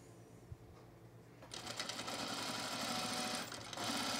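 A sewing machine stitches in the ditch on Winslow culottes, starting with a few quiet clicks and then running in a steady, continuous close-up whir, with a short pause near the end before it picks up again.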